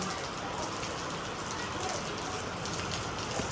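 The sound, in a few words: rain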